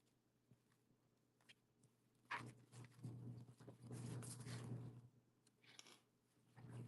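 Dogs stir after waking, making faint close-up movements, soft panting and snuffling, with a louder burst of shuffling activity in the middle. The sounds are quiet and intermittent, with a steady low hum underneath.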